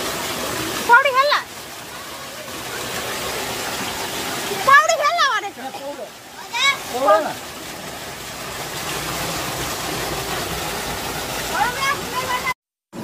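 A mountain stream in Dharan rushes in a steady, continuous wash while people swim in it, with splashes and voices breaking in now and then.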